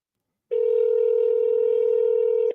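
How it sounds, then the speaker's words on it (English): A single continuous telephone tone, like a dial or ringback tone, sounds while a call is placed to a state senator's office phone. It is loud and steady for about two seconds, and no one speaks over it. "Let's see if Dan Bonham answers his own phone."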